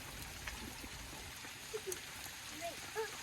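Steady rain hisses and patters in a broad wash of noise, with a few faint voices murmuring in the background.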